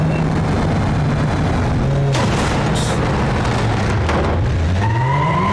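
A 2.5-liter V6 SC3500 Sedan in BeamNG.drive revs and shifts, its engine tone rising and falling. Loud booming impacts and a skid burst in partway through, all heard up close with no voices.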